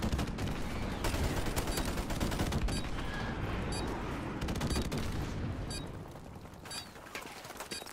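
Desert Eagle pistol shots in multiplayer Call of Duty: Modern Warfare Remastered, loud sharp cracks fired in quick succession over busy battle noise, easing off toward the end with no talk.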